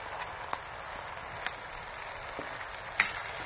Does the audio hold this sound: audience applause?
no